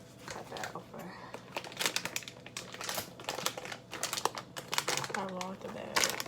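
Plastic bag crinkling and rustling as it is cut open, with irregular crackly bursts at close range throughout, while a person talks over it.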